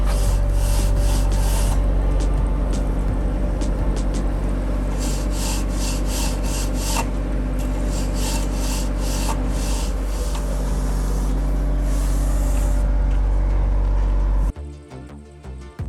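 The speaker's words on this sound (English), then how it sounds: "they just see how this guy is just sliding his level, and it all comes out leveled" A worker slides a level along laser-set rails to screed a freshly poured floor on a house build, giving a steady, continuous rubbing and scraping over a constant low hum, ending with a brief shift in noise near the close.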